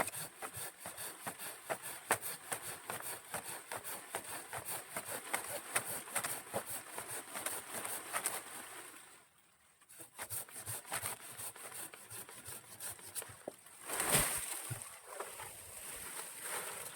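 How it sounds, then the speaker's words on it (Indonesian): A small pruning saw cuts through cacao tree branches in steady rhythmic strokes, close and fairly loud, with a brief pause midway and rustling of leaves and wood near the end. "Kita gunakan gergaji pangkas seperti ini ya, simpel saja untuk memangkas segala jenis dahan-dahan tanaman ya."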